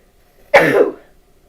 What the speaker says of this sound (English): That was a sneeze and a cough